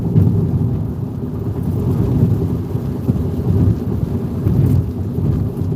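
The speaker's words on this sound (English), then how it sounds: "we've got several severe warning thunderstorms directly in front of us" Heavy thunder rolls continuously from a severe thunderstorm in Mississippi, a loud sustained low rumble lasting throughout with rain hiss mixed in and no voices.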